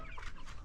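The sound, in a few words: chickens clucking on a poultry farm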